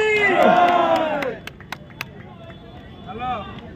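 A crowd cheers loudly with rising whoops and shouts at a Ganesh laddu auction for a 3,500 kg laddu in Talcher. The cheering fades into scattered claps and murmurs, then a brief second swell of voices.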